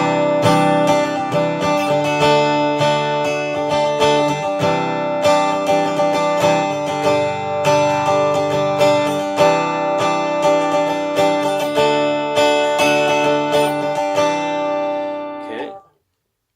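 A Fender Acoustasonic Telecaster guitar set to a rosewood and spruce dreadnought acoustic voicing is strummed in repeated bright chords with ringing sustain, played alone at close range for about fifteen seconds before cutting off abruptly.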